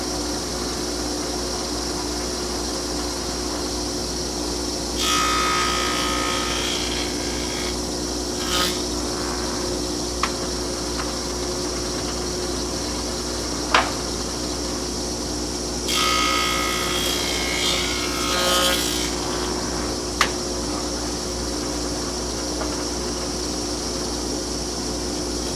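Old Oliver jointer in a woodshop hums steadily, with two bursts of rough planing noise as rough-sawn wood is fed across the cutterhead and a few sharp knocks in between.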